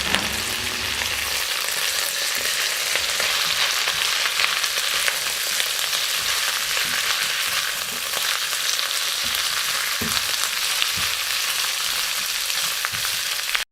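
Garlic and carrots frying in a pan for a Chinese celery dish, a loud, close, unbroken sizzle with light stirring scrapes and occasional pops throughout.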